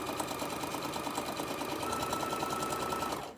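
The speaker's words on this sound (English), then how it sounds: "you're going to sew about about halfway down your fabric." Sewing machine stitching fabric for a chicken pincushion, a steady fast mechanical whir with rapid even needle ticks, close and alone, stopping abruptly at the end.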